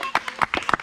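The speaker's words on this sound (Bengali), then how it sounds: "হাততালি হাততালি হাততালি।" Children clap their hands in a quick, uneven burst of sharp slaps during a balloon-popping prize game, close and moderately loud, with voices talking over them.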